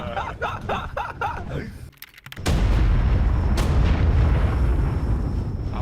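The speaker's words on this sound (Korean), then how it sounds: "밑에서 폭발 소리가 쾅쾅" Speech gives way after a short pause to a loud, sustained burst of booming explosions in the video game ARK: Survival Evolved, rumbling on without letup.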